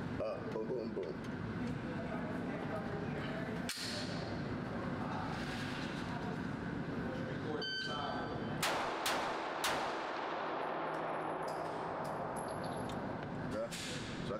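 Glock pistol fitted with a Radian Ramjet compensator fires a few sharp shots, then several more cracks follow in quick succession at a range, with steady background noise and people talking.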